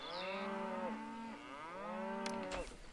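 Cattle in the Pharaoh game give two long, drawn-out moos in succession, close and clear, with a brief click near the end and no talking.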